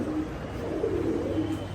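Pigeons coo nearby in soft, repeated low throaty murmurs over a faint background hum, with no voice.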